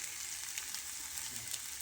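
Ground spice paste sizzling in hot oil for a potato amti, a steady, even hiss with no breaks, soft and close with no voices.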